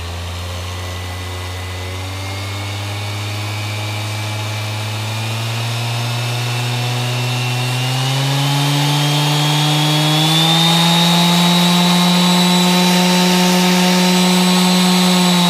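A Bosch ROS20VSK 120-volt variable-speed random orbit sander runs alone, its loud, steady motor whine climbing in pitch as the speed is turned up.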